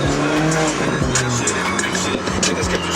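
A car drifts, its tires squealing in loud, sweeping pitched screeches over engine roar, with bursts of skidding close by and a brief shout in the background.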